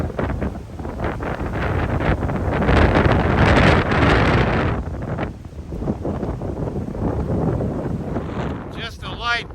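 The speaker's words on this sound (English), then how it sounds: "the wind in the forest is not that bad at all." Wind blowing through a forest at Bull Gap on a mountain trail, a continuous loud roar that swells and fades in gusts, with rushing leaves and buffeting against the microphone throughout.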